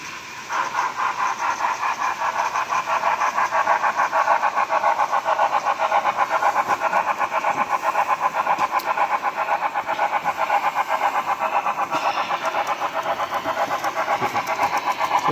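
A BLI Paragon 4 Union Pacific FEF3 steam locomotive model pulling heavyweight coaches and an excursion tender runs steadily, giving a rapid, rhythmic chuffing sound effect at constant loudness, close and alone.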